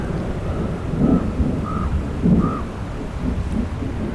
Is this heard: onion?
no